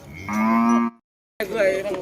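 Cattle at a livestock market in Kut Ruea Kham, Wanon Niwat, Sakon Nakhon, give two loud, close moos, a long drawn-out call followed after a brief pause by a second one.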